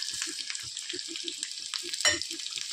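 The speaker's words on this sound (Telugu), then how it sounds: "ఆయిల్ అయితే బాగా మరిగింది. తర్వాత కొన్ని పోపులు వేద్దాం." Tempering spices and curry leaves crackle and sizzle in hot oil, a steady frying hiss with quick pops throughout and a sharper burst of spattering near the end.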